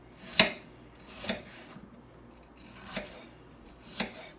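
Knife slicing apples on a cutting board for an apple tart, four separate crisp cuts spaced about a second apart, close and fairly quiet with no talk.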